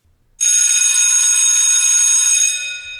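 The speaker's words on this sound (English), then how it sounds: "Well, that's the bell, folks." A bright, sustained bell rings loudly for about two seconds after a short silence, then fades slightly at the end, heard alone at the close of a table talk debate round.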